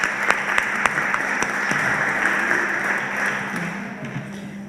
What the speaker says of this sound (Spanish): Vamos a darle un aplauso a nuestras panelistas.